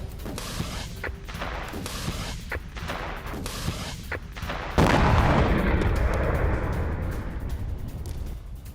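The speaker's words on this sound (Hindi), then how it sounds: "भागते हुए अफगान सैनिकों पर फायरिंग भी की पाकिस्तान के सैनिकों ने" Gunfire cracks out in several sharp, separate shots along the Afghanistan–Pakistan border, followed by a louder burst or boom that leaves a rough, sustained roar.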